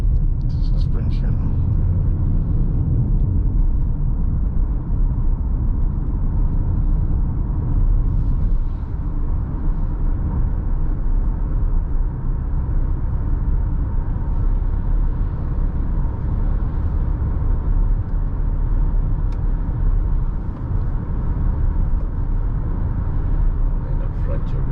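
Steady low engine rumble and road noise from a 2021 Haval H6 2.0T Lux driven over a bumpy road, a continuous near drone with little variation.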